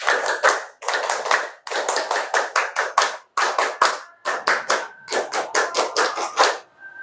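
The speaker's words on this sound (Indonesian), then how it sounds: "Tepuk tunggal, tepuk ganda, tepuk 2 kali 13" A standing classroom of seventh-grade students claps along in an icebreaker routine: loud, close bursts of single and double claps in a rhythmic pattern, with brief pauses between groups, and no talking.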